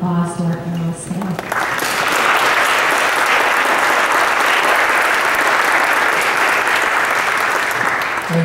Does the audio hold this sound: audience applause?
yes